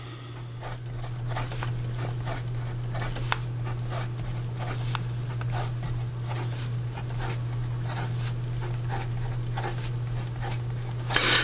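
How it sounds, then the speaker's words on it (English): Fast strokes of a cork-handled calligraphy pen with a wet stub nib across paper, giving a steady scratchy rustle with brief taps, close and continuous over a low constant hum. "And then in regard to some fast writing,"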